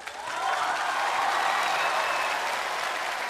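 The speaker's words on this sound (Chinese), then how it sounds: "有没有喜欢沈腾的鼓掌我看看" A television studio audience at a Chinese crosstalk comedy show breaks into applause, swelling quickly into steady, full clapping that continues evenly until the end.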